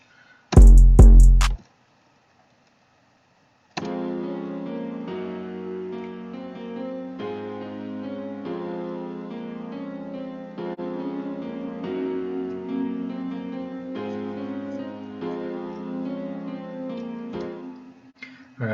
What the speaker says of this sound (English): let's go ahead and see what our chords sound like here first.